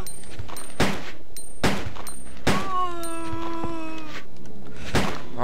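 Gunfire in the video game Resident Evil 2: loud, sharp shots fired in separate bursts about a second apart, with ringing tonal effects sounding between them.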